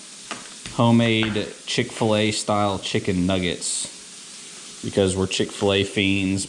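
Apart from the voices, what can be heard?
homemade chicken nuggets frying in the background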